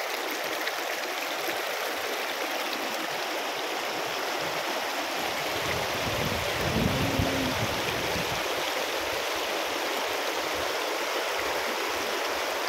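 A fast-flowing stream in Real, Quezon rushes steadily close by, a loud, unbroken hiss and roar of water that holds level for the whole stretch, with a brief splash near the middle and no voices.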